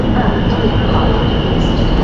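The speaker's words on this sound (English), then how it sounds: "There is my train. I have to jump in." A train arrives at a station with a constant loud rumble and a steady high whine, filling the whole stretch with no break.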